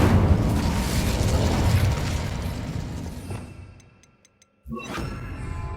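Incendio fire spell blast in Hogwarts Legacy, a loud rumbling burst of roaring flame that swells and fades to near silence, then a fresh sharp whooshing crackle with a faint chime.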